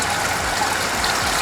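Seven litres of water heated to about 70 degrees is poured through a colander onto mashed grain in a Klarstein mash kettle for sparging, a loud continuous splashing gush lasting a second and a half.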